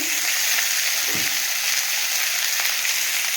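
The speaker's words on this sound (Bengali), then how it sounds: "ওই কড়ার মধ্যে কলা আর আলুটা ভেজে নিচ্ছি" Continuous loud frying sizzle as banana and potato fry in a wok, an even crackling hiss from hot oil, with a faint scrape now and then.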